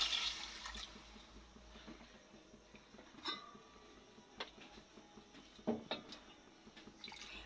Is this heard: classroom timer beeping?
no